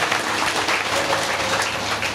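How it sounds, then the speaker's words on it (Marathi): Crowd applause at a Mahashivratri gathering in Dhasgad, welcoming a guest named Mahadev, a steady dense patter of many hands clapping throughout without pause. "सगळ्यांनी एकदा टाळ्या वाजवून स्वागत करावा"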